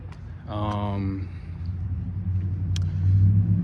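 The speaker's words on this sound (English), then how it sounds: "these cars, I'm not gonna lie, they're throwing off my thought process" Cars pass along a road nearby, a low steady rumble of traffic with one vehicle's engine briefly rising in pitch, over continuous background noise.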